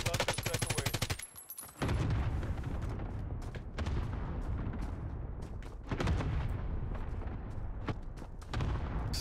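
Cluster airstrike explosions in Call of Duty: Warzone: rapid bursts of fire open, then a rolling series of heavy, booming blasts that land every couple of seconds and fill the whole stretch, loud and close.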